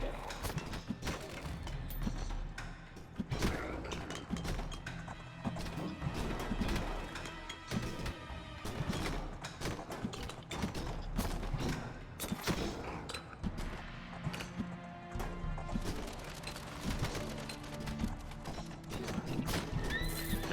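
A horse in the game Halls of Torment neighs and its hooves clatter in steady clip-clop rhythm amid dense, busy game combat effects, loud and continuous throughout.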